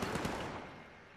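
A dense burst of rapid gunfire from the video game Watch Dogs 2, a loud continuous rattle of shots that fades out over about a second, with no talking over it.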